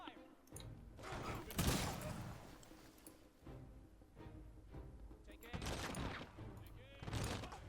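Gunfire in the video game Humankind: scattered bursts of shots and volleys with heavy thuds, several separate loud bursts spread over the clip above a quieter battle background.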